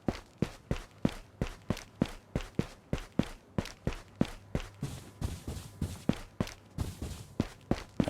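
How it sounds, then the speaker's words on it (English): Footsteps in the video game Ghosts of Tabor: a steady, brisk run of close, sharp steps about four per second, continuing evenly throughout with no talk. "I heard some footsteps close by."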